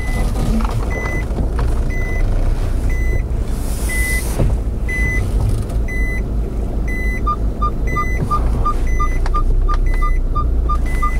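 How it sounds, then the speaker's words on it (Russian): Steady electronic beeping from a vehicle's parking sensors, repeating in regular pulses that speed up toward the end, over a low engine rumble. "Опять мы слышим то, что запищали сонары."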